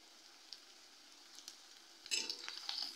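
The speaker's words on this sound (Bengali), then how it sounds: "পেঁয়াজটা ভাজা ভাজা হয়ে গেছে, এবারে আদা কুচি দিয়ে দিচ্ছি" Onion, ginger and green chilli sizzle in hot oil for restaurant-style veg chowmein, a soft frying hiss that grows louder and crackles as the ginger is added, with a faint clink.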